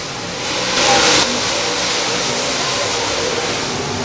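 USRA B-Mod race cars roar around Valley Speedway, a continuous engine drone with a brief louder surge as a car passes close, then a steady pack sound from mid-distance.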